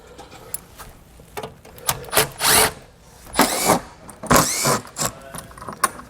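Screws are backed out of the cover of a Coleman air conditioner on a 2021 Keystone Raptor RV, giving several short whirring bursts from a power driver separated by quiet gaps, fairly close.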